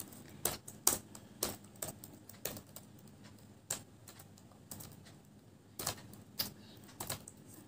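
Computer keyboard typing during a typing speed test, with irregular bursts of crisp key clicks, some quick runs and a few gaps, close and fairly quiet.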